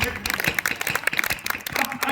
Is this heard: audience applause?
yes